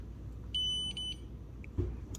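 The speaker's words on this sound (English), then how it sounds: "All you have to do is press the button and makes that beeping sound." A dog shock collar gives a few short, high electronic beeps close by in quick succession, then quiet background with a faint knock.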